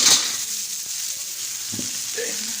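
Oil crackles and hisses steadily in a pan as rice fries, with a few soft clinks of a utensil stirring, close and continuous.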